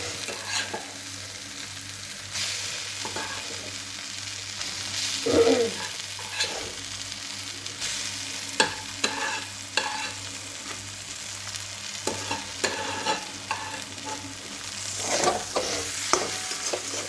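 Soft, steady sizzling of onions frying in oil, broken by frequent scraping and clinking as they are stirred in the pan.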